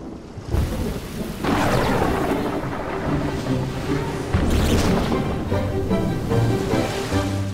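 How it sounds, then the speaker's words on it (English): Thunder rumbles and cracks over steady rain in an animated sea story, a loud storm bed with a sharp crash around the middle and rolling thunder continuing throughout. "Sometimes filled with a thunderstorm."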